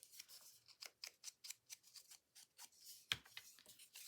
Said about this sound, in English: Let's cut this off a little bit.